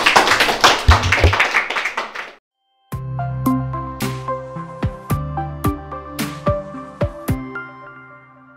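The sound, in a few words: applause for two students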